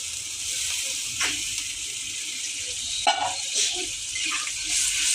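Water hits a pan of frying mustard spice paste for a fish curry, giving a steady close hiss and sizzle with a few bubbling bursts and clinks, no voices.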